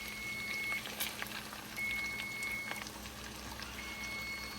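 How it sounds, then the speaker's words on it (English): Tomato sauce goes into a cooking pot of pork frying with onion and garlic, giving a steady bubbling sizzle and liquid wash at moderate volume, continuous across several seconds with no talk. "Okay, so we are adding tomato sauce."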